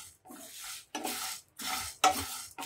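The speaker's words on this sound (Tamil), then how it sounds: "நல்ல ட்ரை ரோஸ்ட் ஆகட்டும்." Whole spices such as cinnamon and cloves being dry roasted and stirred in a pan for a sambar spice powder, giving three bursts of scraping, rustling stirring with a faint crackle between short pauses.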